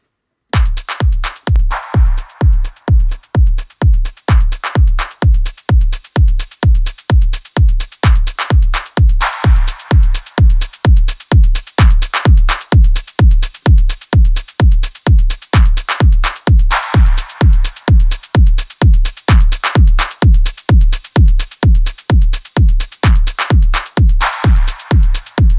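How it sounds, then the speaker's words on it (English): Melodic techno drum loop pushed through overdrive distortion, dense and loud, with thick saturated kicks hammering in a rapid steady pulse and gritty hats and noise washes swelling at intervals, sustained for about twenty-five seconds with no voices. "First, we're going to hit it with some overdrive"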